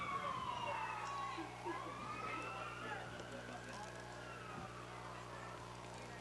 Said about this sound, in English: A lot of sirens going down Ashley Street here today.